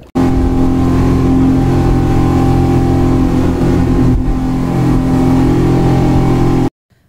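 Steady engine drone from the boat carrying passengers from Maafushi island to Malé in the Maldives, a loud continuous low hum with a strong tonal note that runs the whole time before cutting off near the end.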